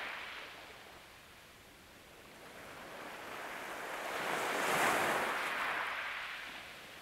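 Waves washing onto a beach, a steady hiss of surf that swells toward a broad crest and then eases back, heard alone with no voices.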